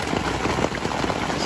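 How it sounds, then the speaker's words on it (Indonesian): Rain pouring down at a mountain campsite on a bike camping trip to Kalimati, a dense, steady close-up patter on surfaces. "ternyata hujan turun dengan asiknya"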